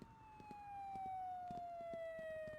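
Ambulance siren in the Flashing Lights emergency-services video game, a faint wailing tone sliding slowly downward with rhythmic pulses beneath it, distant and alone.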